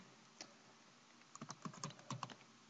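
Quiet computer keyboard typing heard nearby: a single keystroke, a pause, then a quick irregular cluster of clicking keys, with no voices.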